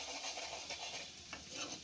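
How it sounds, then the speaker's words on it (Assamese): Liver fried with ginger and garlic sizzles in a pan while being stirred, a soft continuous frizzle broken by scraping strokes of a utensil against the pan. "সেইকাৰণে মই এইখিনি লৰাই ভাজি আছোঁ"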